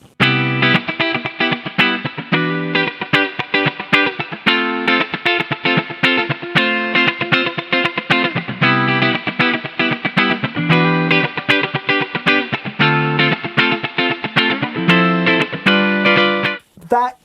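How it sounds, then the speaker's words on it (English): An electric guitar plays through a Fender clean valve amp into a Torpedo Captor 4 load box, a continuous run of picked notes and chords, close and steady, with a slight distorted edge and reverb. "that is the sound of your Fender clean amp through the Torpedo Captor 4."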